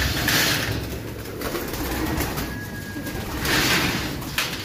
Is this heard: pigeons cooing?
yes